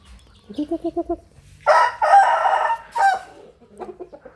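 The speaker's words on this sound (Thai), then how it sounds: "เป็นไก่ชนง่าย ๆ นะครับ พันแสงนะครับ" A Burmese fighting rooster clucks in a quick run of short notes, then lets out a loud, long crow nearby, followed by softer clucking.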